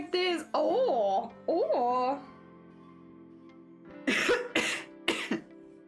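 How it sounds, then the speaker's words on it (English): A person coughs hard to clear rice stuck in the throat, a few loud harsh bursts, with short vocal sounds and throat noises before them, close by. "I need to have a really good cough. There is rice stuck in my throat."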